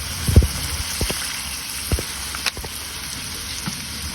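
Pork liver adobo sizzles in a pan as soy sauce is poured in, giving a quiet, steady frying hiss dotted with a few sharp pops and clinks, with no one talking.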